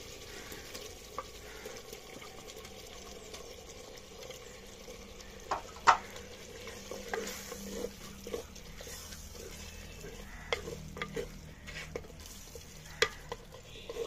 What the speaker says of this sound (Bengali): কেটে ধুয়ে রাখা মাংস এইবারে দিয়ে দেব হাঁড়ির ভিতরে